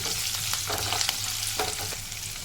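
Cashews and finely chopped green chillies sauté in a hot pan, giving a loud, continuous sizzle with brief bursts of crackle as they are stirred.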